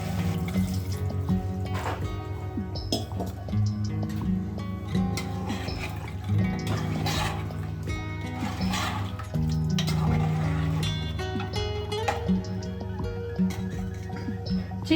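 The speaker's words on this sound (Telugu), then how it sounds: "ఇప్పుడు గ్రేవీ కోసం మనం కొంచెం వాటర్ యాడ్ చేసుకుందాము." Water poured into a pan of chicken curry gravy, a steady splashing and trickling that runs throughout beneath a bed of background music.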